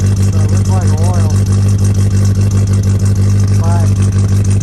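A 1987 Toyota Pickup's 22R four-cylinder engine runs steadily at idle, a loud, even low rumble that fills the whole clip, with a voice briefly speaking over it.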